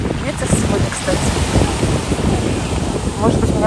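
Strong wind blows steadily at the Black Sea shore in Lazarevskoye, a loud, continuous gusty roar buffeting the microphone, with surf and low voices mixed in underneath.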